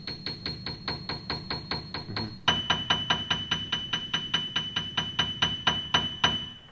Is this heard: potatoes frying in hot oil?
no